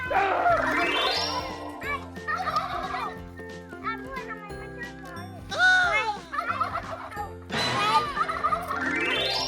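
Several turkeys gobble loudly in bursts, their rapid warbling calls overlapping and answering each other at close range.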